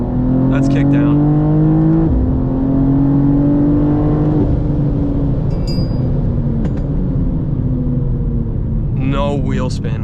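An 800-horsepower BMW M2 G87 at full throttle, its engine note climbing hard through a kickdown and gear changes, loud and close from inside the car, with brief voices in the cabin.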